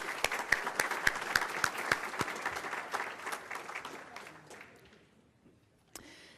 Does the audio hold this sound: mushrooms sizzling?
no